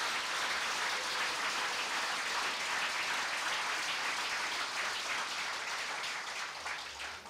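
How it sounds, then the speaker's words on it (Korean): Warm welcoming applause from party officials at a regional meeting in Daegu, a dense, steady crowd of clapping that holds evenly and tapers slightly at the end, with no speech. "뜨거운 그 환영의 박수로 우리 취객을 환대해 주시기 바랍니다"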